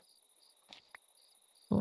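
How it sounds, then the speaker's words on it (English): Crickets chirping in a Minecraft game world with a realistic texture pack, a faint, steady high trill over near silence, broken by a couple of soft clicks and a sudden louder thump at the end. "I hear the crickets again"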